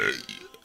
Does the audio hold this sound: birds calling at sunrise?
no